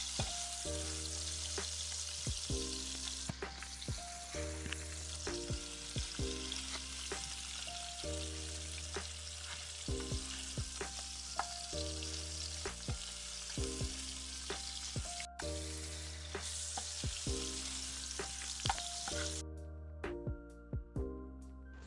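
Tomatoes frying in hot oil for a Kolhapuri-style chicken kheema, a soft continuous sizzle with occasional stirring scrapes under a steady musical accompaniment, fairly quiet and without speech.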